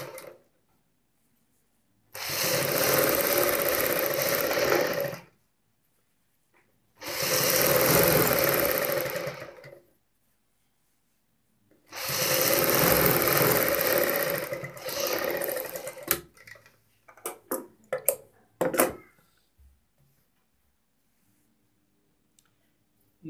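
A sewing machine stitches a salwar bottom hem in three sustained runs of about three seconds each, separated by quiet pauses, followed by scattered clicks and short handling taps.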